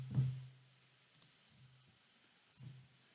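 Computer mouse clicks on a Log On button in software setup, a sharp close click at the start followed by a couple of softer clicks later, in a quiet room.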